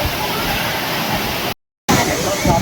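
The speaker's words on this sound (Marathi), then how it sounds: "चिपळूणचा सवत्सडा धबधबा खूप छान वाटला." Savatsada waterfall at Chiplun during the monsoon, a dense, steady roar of falling water broken by a brief gap of silence, then resuming just as full, with faint crowd hubbub in the background.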